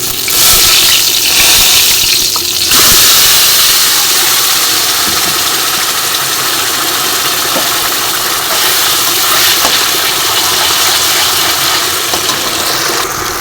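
Green banana peel paste hitting hot oil with browned garlic, giving a loud, steady broadband sizzle and hiss that runs unbroken and close throughout, with no talking.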